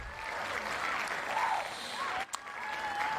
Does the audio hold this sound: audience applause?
yes